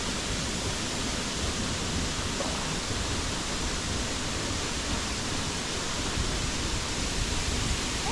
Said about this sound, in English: Yeah, waterfall.